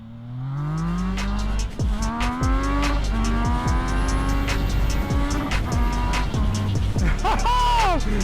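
A motorcycle accelerates hard in first gear without the clutch, its engine note climbing sharply through several rising revs, loud and close.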